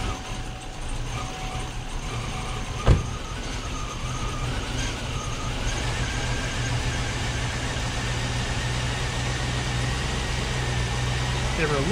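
An auction Chevrolet Tahoe engine, recently worked on with a blown-off coolant hose, idles steadily and close by for the whole stretch. The even mechanical hum has one sharp click early on.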